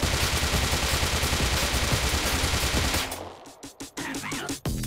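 Sustained MP5 submachine gun fire in the video game Rust, a dense unbroken automatic burst for about three seconds, then shorter stuttering bursts with brief gaps, loud and close.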